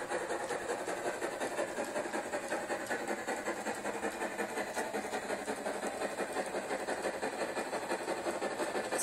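The Heisler 102 geared steam locomotive hauls a log train with a steady, fairly faint mechanical rumble and rhythmic chugging, with no talking.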